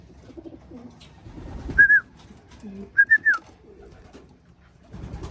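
Black velvet racing pigeons coo nearby in a few short, soft bursts, with faint rustling and low background murmur between the calls.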